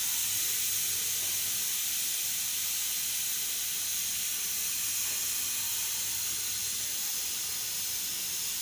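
Steady hiss of steam escaping from a pressure cooker on a home stove after the flame is switched off, a continuous broadband rush holding level from start to finish with no talk.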